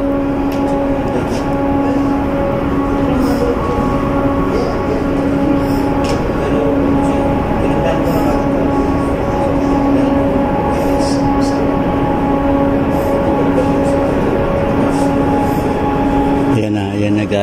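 Riyadh metro train pulling into an underground station platform, a steady loud rumble with tonal hum and rising wheel noise throughout, station announcements and voices faintly mixed in.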